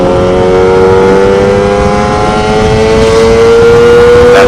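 Lambretta Targa Twin 275cc piston-ported scooter engine being revved hard, giving a loud, close, buzzing whine that climbs steadily in pitch across several seconds without a break.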